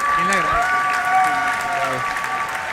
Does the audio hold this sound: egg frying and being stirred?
no